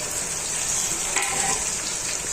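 Curry leaves, chillies and coriander fry in a hot pan with a steady, bright sizzle, and a sharper crackle flares briefly midway.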